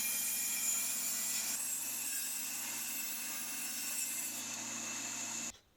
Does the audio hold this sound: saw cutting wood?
yes